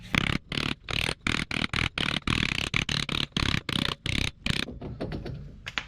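Rapid, loud metallic hammer blows pound a seized wheel bearing out of a B6 Audi S4 in bursts with brief gaps, followed by a quieter scraping rattle near the end.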